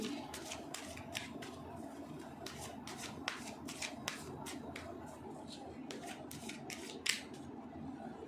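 Tarot cards being shuffled and dropping: a steady run of crisp, close riffling snaps and light slaps, repeating quickly and evenly over a soft background hiss.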